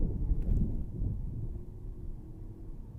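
Wind buffets the microphone in low rumbling gusts, strongest at first and then settling into a steady roar, heard in a sound test of Soundcore Anker Life Q30 headphones.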